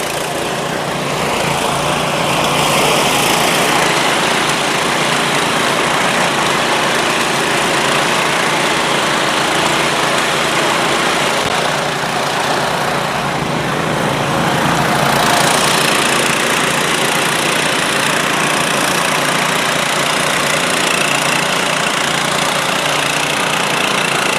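An Agrineer power weeder for Konkan paddy-field farming runs steadily with a loud, continuous buzzing small-engine drone, close and unbroken throughout with no speech.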